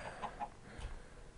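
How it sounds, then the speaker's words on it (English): A Minecraft chicken gives a few soft, faint clucks in short quick pips over a quiet background. "Give me that chicken."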